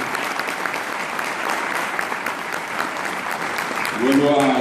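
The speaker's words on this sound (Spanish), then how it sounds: "esos aplausos no son para mí, son para el guaraní" An audience at a cultural event in Corrientes, Argentina, applauds with steady, dense clapping that fills the room, and a voice begins speaking over it near the end.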